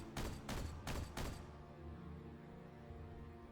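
Three loud, evenly spaced bursts of gunfire in the strategy game Warhammer 40k Regicide, each a sharp volley, followed by a fading low rumble and ambient game sound.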